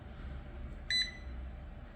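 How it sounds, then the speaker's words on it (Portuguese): A UNI-T UT89XD multimeter in diode-test mode gives a single short, clear electronic beep lasting about a tenth of a second, heard over a steady low background hum. "E o interessante é que ele dá um bip, né?"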